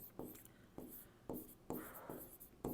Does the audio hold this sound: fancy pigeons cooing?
no